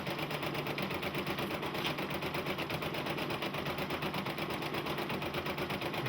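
A Brother PE-770/PE-800/PE900 embroidery-only machine stitches continuously, giving a steady rapid mechanical chatter with a fast regular pulse that keeps an even, moderate level throughout.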